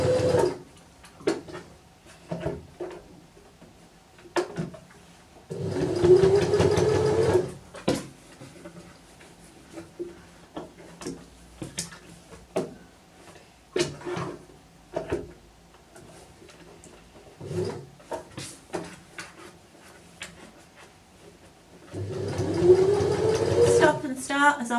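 A sewing machine stitching a Peter Pan collar runs in several short whirring bursts separated by pauses filled with fabric handling and a person talking.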